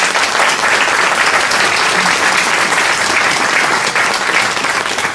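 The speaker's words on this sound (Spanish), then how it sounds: "Un abrazo para el PEN y un aplauso." Audience at a literary program on novels and poetry breaking into sustained applause, a loud, even roar of many hands clapping without pause.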